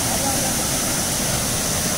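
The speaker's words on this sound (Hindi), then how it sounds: "ये पूरा पहाड़ है ऊपर से, और इसके ऊपर से ही आ रहा है पानी" Water flowing down a mountainside into a stream where people bathe, a loud continuous rushing wash close by, steady and unbroken.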